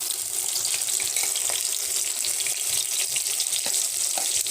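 Half-ground onions fry in about three spoons of oil in a wok, giving a steady, bright hissing sizzle with scattered crackles that runs evenly with no talking.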